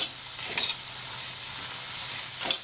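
A couple of brief scrapes as black ghevda beans are stirred while dry roasting in a pan, close and fairly quiet, with no one talking.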